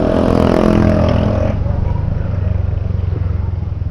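A motorcycle engine runs close by, a loud steady rumbling idle that drops to a lower, rougher chugging midway through.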